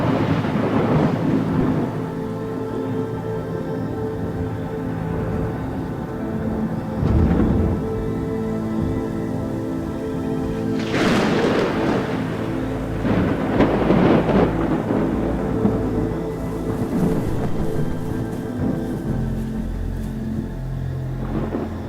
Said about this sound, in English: The thunderstorm has passed over, but continues to rage.